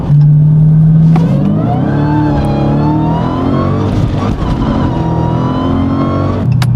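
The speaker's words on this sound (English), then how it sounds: "Doing a pull like that brings a smile to my face in this car every single day." A manual Dodge Challenger Hellcat accelerating hard, its supercharged engine roaring loudly and close with rising revs through the gears and brief drops at each shift.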